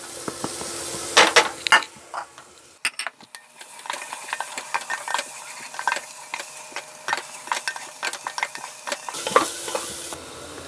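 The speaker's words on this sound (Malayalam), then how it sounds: "ഈ സമയം നമ്മൾ ചതച്ച് വെച്ചേക്കുന്ന വെളുത്തുള്ളിയും ഇഞ്ചിയും കൂടെ ഇട്ട് കൊടുക്കാം. അതും കൂടെ ഇതിലിട്ട് നമുക്ക് വഴറ്റിയെടുക്കണം." Onion sautéing with crushed garlic and ginger in a pan for a chole curry: a soft steady sizzle with repeated scraping and clinking of a spoon against the pan, close and alone, with no talk.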